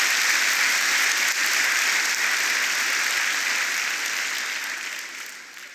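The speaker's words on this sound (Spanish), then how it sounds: "Démosle un fuerte aplauso al Señor Dios poderoso." A church congregation breaks into strong, sustained applause, a loud dense wash of many hands that holds steady and then slowly tapers toward the end, with no talking.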